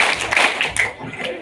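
Children clapping together in a quick rhythmic pattern at a religious celebration, a few sharp claps in a row, moderately close, with faint voices mixed in.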